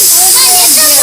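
A pressure cooker vents steam with a loud, continuous hiss and faint wavering whistle-like tones running through it.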